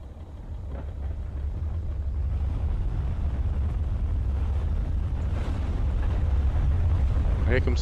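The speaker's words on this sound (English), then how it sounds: "Here comes the tornado." A tornado in the Tornado: Research and Rescue game roars as a dense, steady low rumble that builds slightly in loudness, with a faint clatter near the end.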